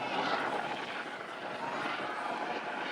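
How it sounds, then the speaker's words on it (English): Steady broadband engine roar of an aircraft passing overhead on a flyover, loud and continuous for the whole moment with no clear rise or fall. "They're gonna do a flyover, I bet."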